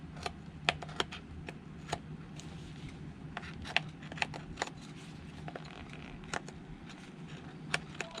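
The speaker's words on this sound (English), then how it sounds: "Nice sharp knife going against stitches." A sharp knife snips through stitches on thigh-high suede boots, giving scattered crisp little clicks and ticks at an irregular pace, close and fairly quiet.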